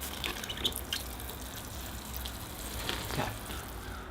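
Water is poured over a newly planted Pyrenean oak bonsai in its container, making a soft, continuous hiss of trickling water with a few faint drips and splashes.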